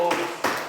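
Two short bursts of clapping from a church congregation at a Sunday afternoon service, loud and close, under a faint voice.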